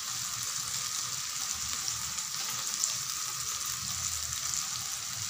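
Ground coriander, cumin, red chilli and turmeric powders fry in oil for an egg curry, giving an even, close sizzling hiss with faint low stirring movement beneath and no speech.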